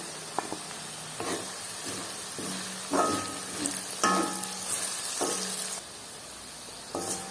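Curry leaves frying in hot oil with ginger, garlic and green chilli: a steady close sizzle with several louder spattering bursts as the leaves hit the oil and are stirred, no voices.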